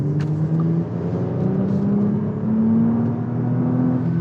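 A 2024 Porsche Cayenne engine hums and then accelerates with a smooth, rising whir, steady and close, the pitch climbing gradually across several seconds without talk.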